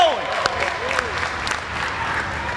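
A crowd at the Dodge Challenger SRT Demon reveal event applauds and cheers continuously, with a few whistles rising over the steady clapping.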